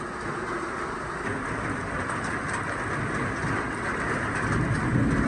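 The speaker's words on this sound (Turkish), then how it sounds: "Yağmur yavaş yavaş geldi buraya." Heavy rain pours steadily in a garden during a storm, a dense unbroken hiss that grows slightly louder toward the end, with no voices.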